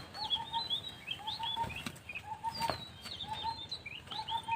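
Pigeons coo softly in repeated short calls at a moderate distance, with a brief flutter of wings as one flies down, under faint background noise.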